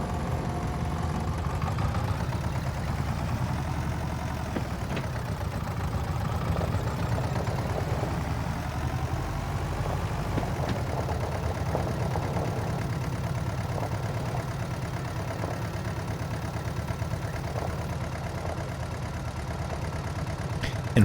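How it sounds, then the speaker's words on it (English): A tractor engine idling inside a barn, its low, steady throbbing chug reverberating off the walls so it sounds doubled, running continuously and fairly loud with no voices. "the engine echoes around and it sounds like there are two tractors in the barn"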